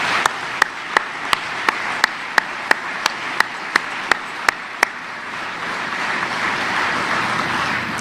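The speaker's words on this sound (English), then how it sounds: "Please, a round of applause for the Davidsons." Applause from the audience at the 2021 US Indo-Pacific Command change of command ceremony, opening with a string of sharp, evenly spaced single claps before a broader, steady wash of clapping builds and fills the last few seconds.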